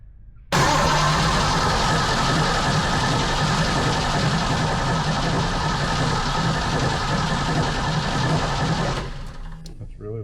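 Cobra kit car engine fitted with a Holley Sniper, cranking steadily on the starter in a loud, sustained whirring drone for about eight seconds before it cuts off, close by.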